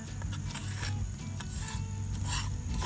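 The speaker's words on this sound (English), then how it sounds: "scrape all that yummy butter in there" Butter scraped from a dish into a bowl of quinoa and vegetables for stuffed acorn squash, a steady close rasping rub running for about three seconds with no talking.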